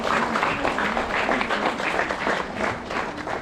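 Louder, sustained clapping from a church congregation at a jubilee-year opening ceremony at St. Thomas Catholic Church, Mayabunder, a dense continuous applause filling the whole stretch.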